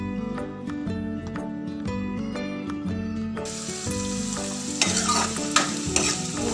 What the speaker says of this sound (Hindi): तेल हमारा गर्म हो गया, लहसुन, अदरक और हरी मिर्च और प्याज हम इसमें डालेंगे।